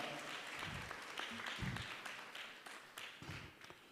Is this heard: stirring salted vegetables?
no